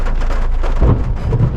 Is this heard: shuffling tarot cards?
no